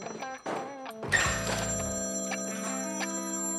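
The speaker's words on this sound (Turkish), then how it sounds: "Telefon." A telephone rings loudly and steadily with a bright, sustained electronic tone that starts after a short thump and a few preceding sounds, continuing without pause to the end.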